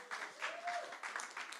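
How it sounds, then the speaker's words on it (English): Brief, faint round of applause from an audience at a UK Barista Championship regional heat in Cardiff, scattered claps heard from a distance in a reverberant room. "so a little round of applause to them."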